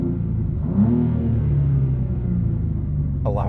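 A 2023 BMW M2 with a six-speed manual rumbles with a steady low engine note, swelling briefly as it revs and moves off, heard close and alone without talk.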